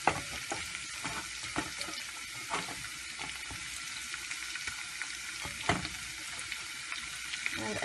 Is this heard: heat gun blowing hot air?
no